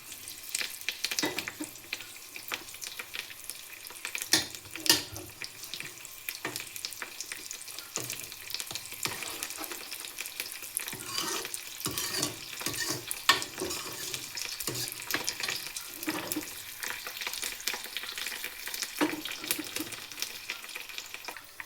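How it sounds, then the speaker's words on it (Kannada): Mustard seeds, dried chillies and curry leaves fry in hot oil for a Kannada-style tempering, giving a steady close sizzle with scattered crackles and occasional stirring scrapes, and no talking. "ಸೊ ಎಲ್ಲ ಚೆನ್ನಾಗಿ ಎಣ್ಣೆಯಲ್ಲಿ ಫ್ರೈ ಆಗಬೇಕು"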